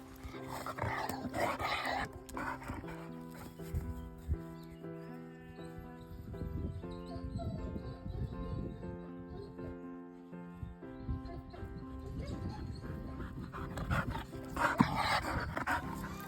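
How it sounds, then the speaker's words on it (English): A small dog pants and plays with a ball on a smallholding, its quick breaths and scuffles mixed beneath steady background music. "She's just a happy little dog."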